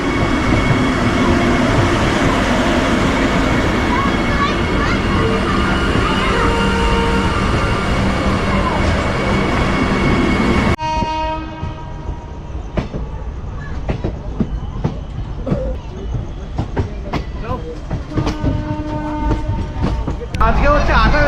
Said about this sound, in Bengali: বন্দে ভারত ঢুকছে, পুরী হাওড়া বন্দে ভারত।